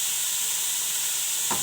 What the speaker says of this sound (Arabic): ونحركو حتى هي تشحر شويه.